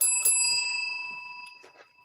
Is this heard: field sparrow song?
no